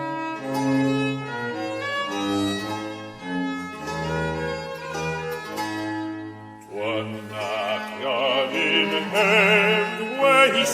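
The old melody "Anacreon in Heaven" plays as clear, sustained instrumental music, steady and fairly loud, with a brighter, warbling texture in the last few seconds.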